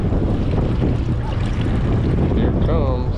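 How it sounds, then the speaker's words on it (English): Heavy wind buffeting the microphone in low rumbling gusts on a halibut fishing boat off Emeryville, California, with boat and water noise beneath and a voice briefly audible. "It's a nice old windy day out here."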